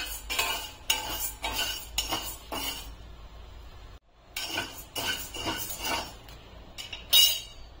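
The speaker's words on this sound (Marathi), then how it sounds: "त्यामध्ये आता आपण हा साबुदाणा भाजून घ्यायचा आहे" A metal spoon stirs sago being dry-roasted in a kadhai, producing rhythmic, close scraping strokes and clinks with a brief pause midway before the stirring resumes.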